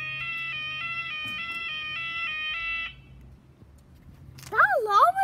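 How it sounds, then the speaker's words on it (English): Out-of-tune Maghull level crossing alarm, a steady multi-tone electronic wail that holds for about three seconds then cuts off, leaving low rumble before a loud voice breaks in near the end. "That alarm was like extremely out of tune"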